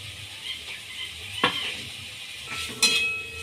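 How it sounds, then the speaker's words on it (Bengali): Fried potatoes and chopped tomato hit hot oil in a pan while making ghugni, giving a soft steady sizzle broken by two sharp clinks of a spoon against the pan, close and alone without talk. "এবার আমি ওর মধ্যে ভেজে রাখা আলু দিয়ে দিলাম।"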